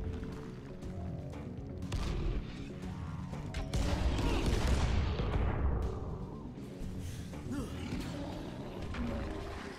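A grenade blast in a video game, a heavy booming burst around the middle with a long rumbling tail, set amid continuous loud game noise with crashes and mechanical clatter.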